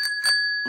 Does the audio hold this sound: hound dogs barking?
no